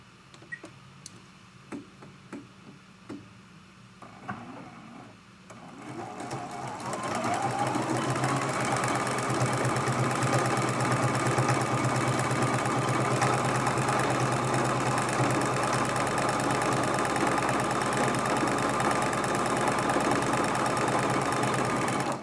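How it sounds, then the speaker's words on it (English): A sewing machine stitches layer cake fabric into a pin cushion, beginning with a few scattered clicks and then settling into a loud, continuous, even whir of running stitches nearby. "I just sew right off the edge and then flip it around and start sewing again"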